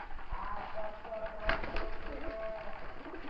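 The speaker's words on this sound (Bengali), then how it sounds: "খুব ভালো একটা কবুতর, হলুদ কবুতরটা।" Pigeons, among them a yellow one, give soft, low cooing calls close by, with short flutters and rustles and a faint voice in the background.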